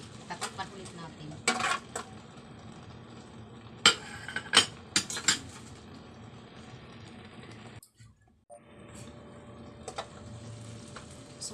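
Pot of laing cooking on the stove being covered, with several sharp metallic clanks and scrapes of lid and pot, close and fairly loud, over a low background simmer.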